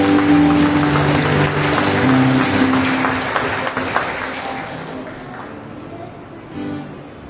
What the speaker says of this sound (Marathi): आपण प्रभूला गौरव करण्यासाठी जोरदार टाळ्या देऊया.